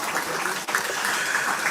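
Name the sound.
applause for Prime Minister Stephenson King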